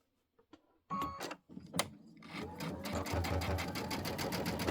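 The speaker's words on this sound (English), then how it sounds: "now I'm going to go ahead and we will sew in from here" A sewing machine stitching quilt binding, starting with a few clicks and short bursts before settling into a steady, rapid whirring run, close by and fairly quiet.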